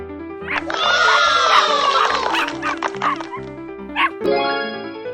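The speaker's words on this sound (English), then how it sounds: "Dog." Cartoon dog barking in a children's animal-learning game, a burst of several yips and barks with musical accompaniment, fairly loud and close.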